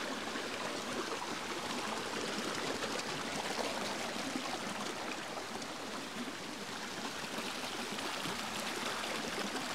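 A mountain stream newly formed after a storm and flash flood rushes steadily and loudly, a continuous broadband wash of flowing water with no pauses and no voices.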